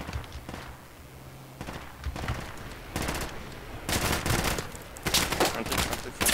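Automatic and single-shot gunfire in Project Reality Battlefield 2 bursts in repeated rattling volleys that grow louder and denser toward the end, with a faint voice underneath.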